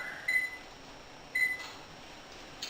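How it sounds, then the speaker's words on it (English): A kitchen oven timer being set for one hour while a sour cream pound cake bakes at 325 degrees gives two short, clean electronic beeps about a second apart over quiet room hiss. "we will set the timer for 1 hour"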